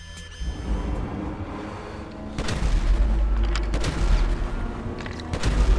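Gunfire in Grand Theft Auto 5 played in first person, with bursts of rapid shots and heavy booms over a rumbling background, loud and close, with a brief pause before firing resumes.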